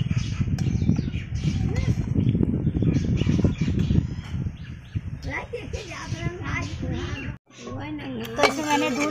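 Cooked rice is scooped out of a home pressure cooker with a metal spoon, giving repeated scrapes and clinks against the pot while someone talks over the kitchen sounds.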